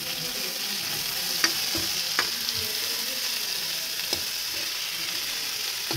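Onion and tomato frying in a pan while a chicken dish is cooked, with a steady bright sizzle throughout and a few scattered clicks of a utensil stirring, close and fairly loud, no voices.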